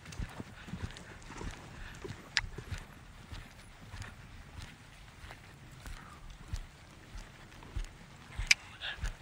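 A horse's hooves clip-clop at a steady walk on ground, fairly faint and close, with a few louder strikes over a low background.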